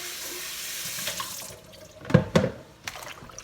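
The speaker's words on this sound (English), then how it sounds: "So this is the final wash, and it is just with regular water." Tap water running into a kitchen sink while turnip greens are washed in plain water, a steady hiss that fades, then a few louder splashes and sloshes near the end.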